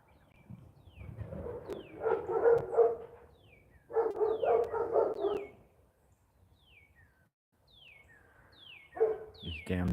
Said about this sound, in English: These damn dogs are making a lot of noise.